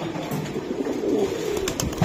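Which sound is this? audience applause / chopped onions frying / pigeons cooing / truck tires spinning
pigeons cooing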